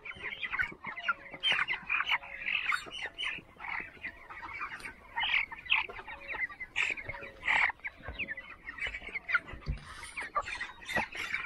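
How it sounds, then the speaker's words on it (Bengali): A flock of farm poultry chickens eager for feed, clucking and squawking densely and continuously, many birds calling close together with no talk. "মুরগিগুলো একদম পাগল হয়ে গেছে খাওয়ার জন্য"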